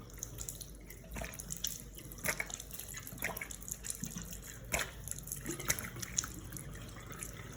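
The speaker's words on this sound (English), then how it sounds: "we need to cup water in our palms like this and splash it over" Cupped palms splash water onto a face over a sink, with a series of irregular wet slaps and splatters over a steady trickle of running tap water, close and clear.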